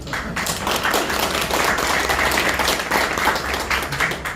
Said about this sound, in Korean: 이 대목에서 박수 한번 쳐드려야 되는 생각입니다